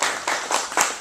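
A short round of clapping from a small audience at a food and wine event, a few uneven bursts of applause close by with no talk over it.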